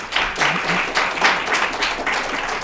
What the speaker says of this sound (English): let's hear a round of applause if you thought it was a good conference